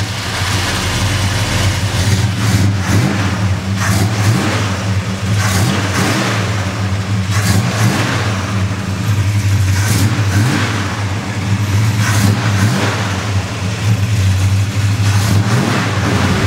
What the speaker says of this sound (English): Let's go for riding this awesome 69 Roadrunner.